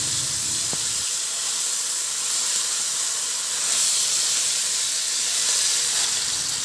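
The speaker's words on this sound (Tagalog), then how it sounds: "Maglagay din ako ng kunting mantika sa kawali at iprito ko na yung pork chop na hiniwalay ko siya sa marinade o sa pinagbabaran." Pork chops, separated from their marinade, frying in a little oil in a pan, giving a loud, steady hiss and sizzle throughout.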